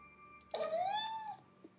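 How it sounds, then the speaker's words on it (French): A domestic cat gives one clear, high-pitched meow with a rising then falling tone, close and fairly loud, followed by a faint short sound before quiet returns. "he tends to meow like this in a very, very high-pitched voice"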